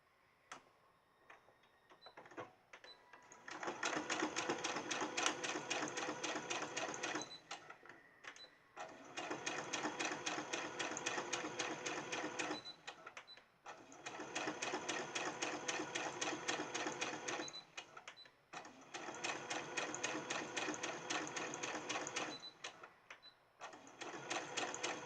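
A worn sewing machine stitches down the sides of fabric for a crib hanging organizer. It runs in four long whirring bursts of rapid stitching, each lasting several seconds, separated by short quiet pauses, heard close but at low volume.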